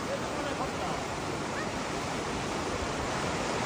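Rushing water of the Lidder River in Kashmir roars steadily during a rafting trip, a loud, continuous, broadband wash of whitewater with no break.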